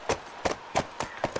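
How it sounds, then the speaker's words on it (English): Horse hooves in The Last of Us video game, six crisp, close clip-clop strikes in a quick, even rhythm. "let me move this horse real quick"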